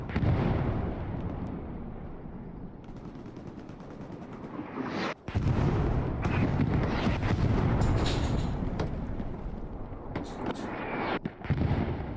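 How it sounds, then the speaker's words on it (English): Heavy artillery fire in the Hell Let Loose battlefield game: loud, overlapping blasts and rumbling explosions crowd together continuously, with a brief lull midway before the barrage resumes. "Artillery falling heavy."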